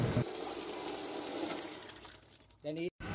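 Rushing water sprays steadily from a tap, loud and close, fading slightly before a short burst of voice and an abrupt cutoff.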